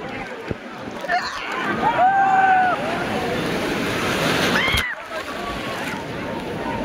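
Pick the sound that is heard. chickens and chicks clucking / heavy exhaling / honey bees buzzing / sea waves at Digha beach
sea waves at Digha beach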